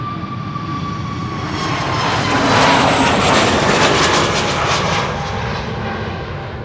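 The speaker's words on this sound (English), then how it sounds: "This is KLM flight 1269 to Copenhagen" A KLM jet airliner departs Amsterdam Schiphol, its engine roar swelling to a loud peak mid-pass and then fading slightly as it moves away, with no voices.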